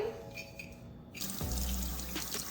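A kitchen tap turns on and runs into a sink to rinse raw salmon, the steady gush starting abruptly partway through, close and moderately loud.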